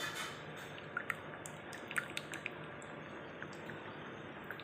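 Tamarind is squeezed by hand in water with soft, faint squishing and light dripping sounds, a few small wet splashes standing out against a low background hiss.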